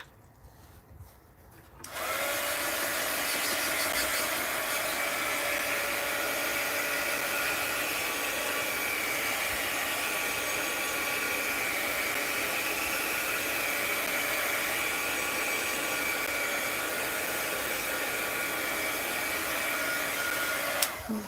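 A heat tool blows steadily on a mixed-media art journal page, a loud continuous whirring hiss that starts abruptly after a short quiet moment and runs unbroken to the end.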